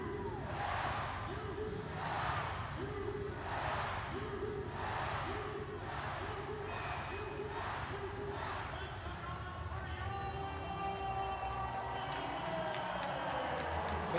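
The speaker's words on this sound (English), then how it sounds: "the Minutemen crowd gets loud once more" A hockey crowd at a UMass Minutemen versus Maine Black Bears game roars in rhythmic, chant-like swells throughout, with a commentator talking over it and a few higher tones near the end.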